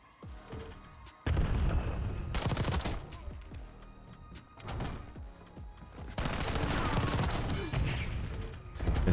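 Rapid gunfire from Black Ops 6, with bursts of automatic fire and single shots in several loud clusters, mixed with mechanical clatter and faint speech in between.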